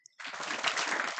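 Audience in a talk clapping together on cue, a dense burst of applause starting abruptly after a brief tap and continuing without a break.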